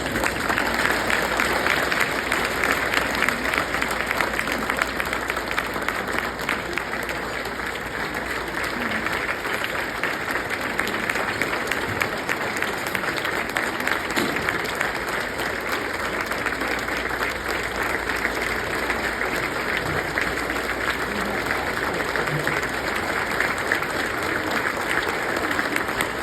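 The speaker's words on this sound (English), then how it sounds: "I'd like you to give a round of applause to his daughter, Julie Eckert" Sustained applause from a large dinner audience at an award banquet, steady and dense for the whole stretch, fairly loud and even with no speech over it.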